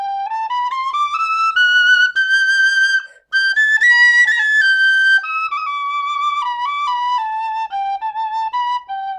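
A Clarke Sweet Tone tapered-bore penny whistle plays a loud, close melody of rising and falling pure tones, with one brief gap for breath partway through.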